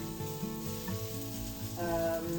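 Onions sauté in a pan with a soft, continuous sizzle, fairly quiet and close, no one talking.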